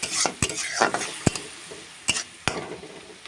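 Spice paste sizzling as it fries in a pan for a fish curry with drumsticks, with a sharp spoon scrape or tap against the pan every half second or so over a steady hiss; close and fairly loud, no voices.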